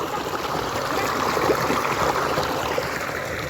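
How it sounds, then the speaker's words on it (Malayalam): Small stream flowing continuously, a steady close babble and trickle of running water with no break and no voices over it. "നമ്മളെ തോട്ട് ഇതാ"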